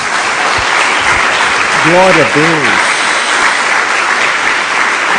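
Church congregation applauding together, a broad steady wash of clapping that fills the room, with a voice calling out in praise over it midway.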